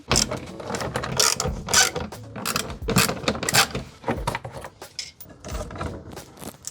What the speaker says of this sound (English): it's gonna have 4 10mm bolts, one right here, one right here, one right here, and one right here. So we're gonna go ahead and remove those now.